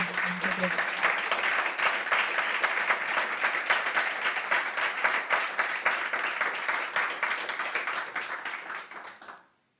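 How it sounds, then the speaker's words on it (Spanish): Audience applause at a sports-for-integration event run with NGOs, dense steady clapping for nearly ten seconds before it fades out quickly at the end. "Un aplauso"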